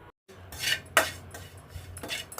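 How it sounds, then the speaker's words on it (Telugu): A metal pot clanks down onto a stove with a couple of sharp knocks, followed by brief scraping clatter, close by with no talking. "మళ్ళీ అదే గిన్నె పొయ్యి మీద పెట్టుకొని"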